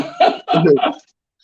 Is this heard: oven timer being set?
no